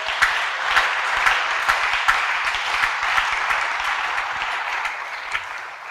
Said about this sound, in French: On donne encore des acclamations au Seigneur.